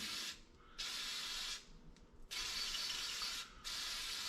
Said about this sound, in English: spray some in here, and in there, nice and clean